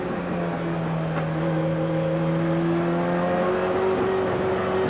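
Touring race cars of Dick Johnson and Peter Brock racing at Amaroo Park in the 1988 ATCC, a loud sustained engine drone whose pitch rises steadily as the cars accelerate, with no commentary over it.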